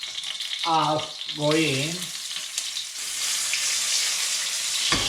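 Garlic and chili frying in about three quarters of a tablespoon of hot oil for a seafood and vegetable stir fry, a steady close sizzle running throughout, with a voice speaking briefly near the start.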